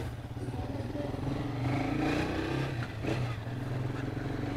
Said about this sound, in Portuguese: Olha, chega a moto, fica bem macinha, né, velho? Com a corrente nova.